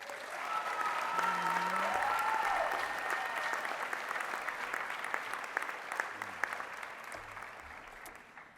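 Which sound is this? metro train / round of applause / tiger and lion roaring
round of applause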